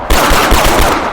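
Rapid gunfire aimed at pillagers in a modded Minecraft game with an armored transport train, a loud burst of several quick shots in close succession with no talking.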